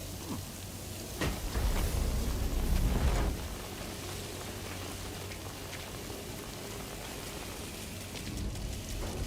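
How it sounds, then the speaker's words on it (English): Rain falls steadily in Death Stranding 2, a soft, even hiss of drops with a brief louder rumbling swell near the start before settling back to a gentle patter. "Is it dangerous rain or regular rain?"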